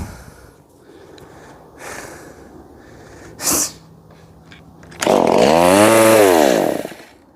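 A Stihl MS170 chainsaw bursts into a loud, close revving roar that rises and falls for about two seconds, after quiet rustling, a sharp sneeze-like snort and faint muttering.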